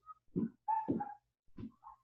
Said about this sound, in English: I don't know if you guys can hear the barking